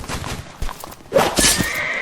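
A horse whinnies in the Roblox battle game Blood and Iron, a sharp neigh rising mid-clip over busy battlefield noise and hoof clatter, loud and close.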